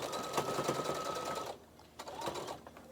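A sewing machine runs in quick stitching bursts, back stitching over a zipper on a small interfaced fabric pouch, with a brief pause before it starts up again for another short run.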